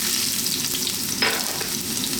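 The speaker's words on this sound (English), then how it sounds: "So we're going to start off by dropping in our ginger." Ginger sticks dropped into very hot oil in a wok for chicken chow mein crackle with a loud, continuous frying sizzle, with one sharper burst midway, close and without speech.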